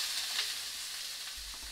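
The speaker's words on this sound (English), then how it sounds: "You hear that sizzle?" Pork belly sizzles in olive oil in a hot pan, a steady, soft hiss of frying fat with a few low bumps near the end and no talking.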